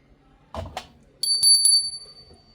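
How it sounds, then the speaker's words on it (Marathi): A small temple bell at a home shrine rings bright and clear, several quick strikes with a lingering high ring, after a couple of soft knocks. "घंटी"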